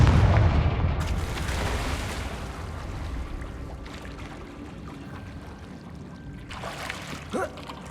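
A Confringo explosive spell goes off in the Hogwarts Legacy video game, opening with a loud low boom that rolls into a long rumbling decay, with a brief crackle near the end.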